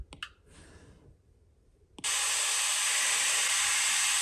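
A spray paint effect in a PAW Patrol drawing video game: a few short clicks and a brief puff, then a loud, steady, bright hiss of spray that starts suddenly and continues to the end.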